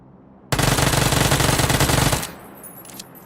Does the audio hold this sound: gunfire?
yes